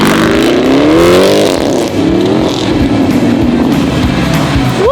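Supercar driving, heard from inside or close by: loud continuous engine drone with rising and falling revs as it accelerates through gears, no talk.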